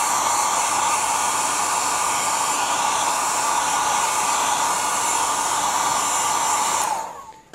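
Hairdryer blasting steadily up close to dry whitewash on a model surface, a loud continuous whooshing roar that holds for about seven seconds and then cuts off as it spins down.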